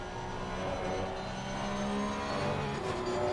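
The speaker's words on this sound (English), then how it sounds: "And the downshifts in the car sound so good" A GT3 race car circulating at Misano, its engine a steady, moderately distant drone with slight pitch shifts as it works through gears, no speech.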